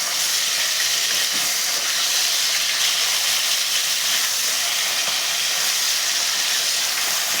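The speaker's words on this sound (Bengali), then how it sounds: "এপিট ওপিট করে মাছগুলোকে ভালো করে ভাজবো।" Pabda fish sizzle and spit in hot oil as they are turned and fried on both sides, an unbroken loud hiss that stays even from start to finish.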